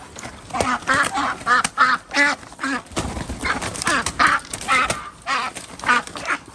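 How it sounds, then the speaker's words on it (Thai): Several Thai breeder ducks on a farm quack loudly and close by in quick, uneven bursts, their calls overlapping with short gaps between. "เป็ดไทยอยู่นะครับเป็ดใช้งานอยู่เลยนะครับ"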